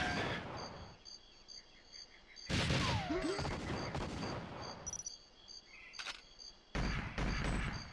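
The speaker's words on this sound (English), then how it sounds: "I could just let Natalia do all the shooting" Bursts of rapid gunfire and sharp shots from the Nintendo 64 game GoldenEye 007, loud and continuous in stretches, with electronic game sounds and short pauses between volleys.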